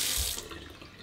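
Water gushes from a faucet fitted with a water-saving attachment, a brief hissing splash that starts strong and then settles into a softer steady flow.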